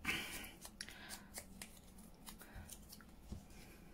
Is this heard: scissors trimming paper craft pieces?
yes